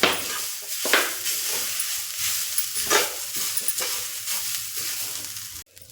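Grated coconut roasting and being stirred in a pan for ukdiche modak filling, a steady dry sizzle with spatula scrapes and strokes at a close, moderate level, no voices.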